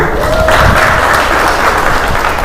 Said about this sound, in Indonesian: Tepuk tangan buat ibu-ibu.